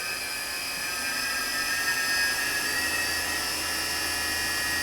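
A used Fadal 6030 HT vertical machining center has its spindle spinning at 6,500 rpm, a loud, steady high-pitched whine layered over a constant machine drone, heard up close with no talking.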